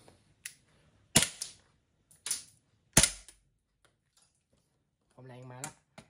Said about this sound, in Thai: นี่ผมจะยิงแหละเดี๋ยวดูความเร็วกระสุนนะครับ